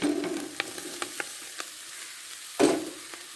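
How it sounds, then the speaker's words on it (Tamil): Plantain being stirred into a pan for a Tamil-style vazhakkai poriyal, with a low sizzle under scattered sharp spoon scrapes and one louder clatter near the end; no voices. "கிண்டி விட்டுக்கலாம் நல்லா கலந்து விட்டுருங்க"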